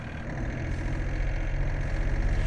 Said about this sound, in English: push and hold to start your engine